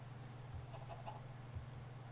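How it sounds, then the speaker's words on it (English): Minecraft chickens cluck softly and intermittently over a low steady hum, with a few short peeps and clucks rising above the background. "Look at all the chickens."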